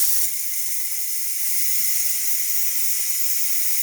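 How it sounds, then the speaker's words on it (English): A pressure cooker vents steam while cooking creamy asparagus and cauliflower soup, a loud continuous hiss that holds steady from start to finish. "we're down to just 5-6 seconds left here on the pressure cooking. So I'm going to be releasing it momentarily"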